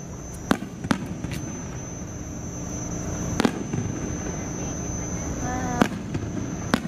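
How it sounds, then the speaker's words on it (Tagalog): Several sharp fireworks bursts crack out at a distance over the Enchanted Kingdom theme park, spaced irregularly over a steady crowd murmur, with a whistling rise trailing one of them. "ang ganda ng fireworks"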